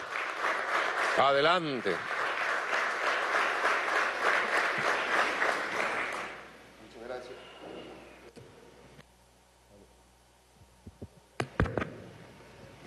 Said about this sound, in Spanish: bienvenido, mal, un aplauso